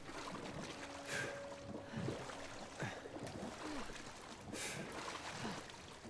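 Splashing water from a character swimming in Uncharted 4, a steady wash of sloshing strokes under a muddy-water ambience, with a person talking over it.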